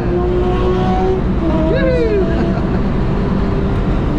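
A Porsche runs on the Mondello Park race track during a December trackday, its engine a loud steady drone heard from inside a car with a brief rising whine partway through.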